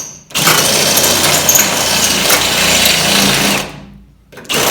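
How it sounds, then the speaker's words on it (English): Power drill fitted with a step drill bit cleaning up holes in a crew cab truck body, a steady loud whirring grind running for about three and a half seconds before winding down, then briefly restarting. "step drill"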